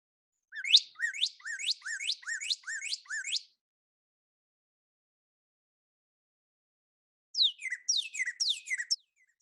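A cardinal calls in two bursts of rapid, bright descending chirps, each a quick run of repeated notes, ringing out clearly with a pause between them.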